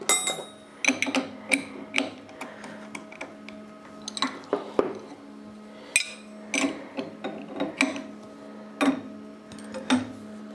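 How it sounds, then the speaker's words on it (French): Tool being tightened into a milling machine in a workshop: a series of sharp metallic clicks, ratchet-like ticks and knocks in irregular bursts, fairly quiet and close, without talk. "Là, je serre l'outil."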